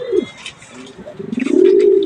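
Pigeons coo nearby in soft, throaty, warbling calls that rise into a longer rolling coo, close to the microphone.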